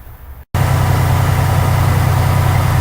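A truck engine idles at full air pressure, a steady loud low rumble after a brief silent cut near the start, continuing evenly with no talk.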